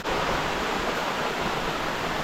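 A waterfall on a property with a long water channel, heard as a loud, steady broadband rush of falling water without pause or speech.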